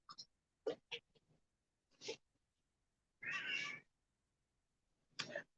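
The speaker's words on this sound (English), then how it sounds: "did y'all hear my cat?" A pet cat meows indoors in several short, separate calls, one longer and louder drawn-out meow near the middle, heard alone with no talk over it.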